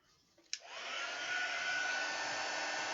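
A heat tool clicks on and settles into a steady, close blowing whoosh with a faint whine as it melts gold embossing powder on a scrapbook strip, no talking.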